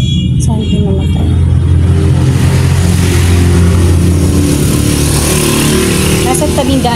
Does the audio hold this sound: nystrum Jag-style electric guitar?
no